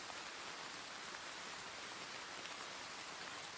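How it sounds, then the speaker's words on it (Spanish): Steady rain falls on a surface throughout, a dense, even hiss of drops at low volume with no voices. "Pasaron unos segundos mientras la lluvia caía"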